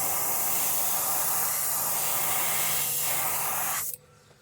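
An airbrush sprays paint onto a wooden jointed wake bait in one continuous loud hiss lasting nearly four seconds, then cuts off abruptly into quiet.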